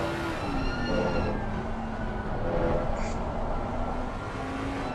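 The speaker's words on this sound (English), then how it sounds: "It sounds like he's riding those brakes, so definitely" A race car on a slow out lap at the Barcelona circuit, riding its brakes, its engine droning steadily at moderate volume with faint tonal whine throughout, no sharp revving.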